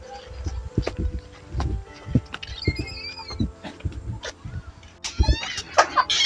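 Chickens inside a house give scattered soft clucks and short squeaky calls among irregular knocks and shuffling thumps at close range, with faint background hum throughout.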